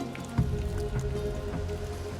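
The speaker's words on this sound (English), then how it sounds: "But heavy rain is flooding the cut and soaking the pay." Heavy rain falls on a flooded gold mining cut, a close, dense patter of drops with a low rumbling machinery drone underneath.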